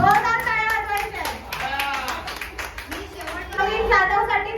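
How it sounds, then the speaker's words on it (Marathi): Loud clapping from an audience for a dancer at a ladies' Independence Day dance celebration, sustained hand claps with voices and children chattering over it. "नवीन जाधव साठी जोरदार टाळ्या वाजवायच्या आहेत"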